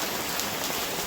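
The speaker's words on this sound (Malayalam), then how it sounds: "ഇതുണ്ട് മക്കളെ, നല്ല മഴ." Heavy rain pours down in a dense, steady hiss, a brief unbroken wash of falling water.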